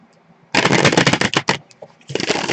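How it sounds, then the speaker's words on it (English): A deck of tarot cards is shuffled by hand in two quick bursts of dense riffling and crackling, close and loud, with a brief pause between them. "Just a quick shuffle on this."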